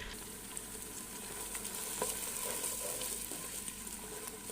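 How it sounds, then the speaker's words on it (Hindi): Garlic-ginger paste frying with onions in a pot for mutton white karahi, a faint, steady hiss that holds evenly for several seconds with no talking. "अब इसके अंदर हम लहसुन अदरक का पेस्ट शामिल कर देंगे जो हमने रखा हुआ था, और इसी को फ्राई करेंगे।"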